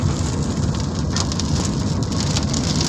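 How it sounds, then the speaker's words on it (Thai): Steady, heavy rain drums on a vehicle in motion near the village of Ban Kham Sawang, with large drops landing close and continuous from start to end and no voices. "ฝนตกอยู่"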